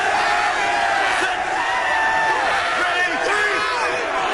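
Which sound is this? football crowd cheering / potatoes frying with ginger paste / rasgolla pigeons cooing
football crowd cheering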